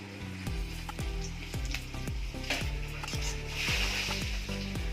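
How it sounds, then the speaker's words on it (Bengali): Whole cumin, a dry red chili, two bay leaves and whole garam masala sizzle in hot oil left from frying potatoes, making a steady close crackle with repeated stirring scrapes. "এই আলু ভাজার তেলের মধ্যে আমি ফোড়ন দিয়ে দেবো।"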